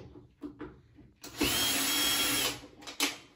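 A power drill backing a screw out of the top panel of a Samsung top-load washer: soft handling knocks, then a loud steady whir of about a second, and a short final buzz.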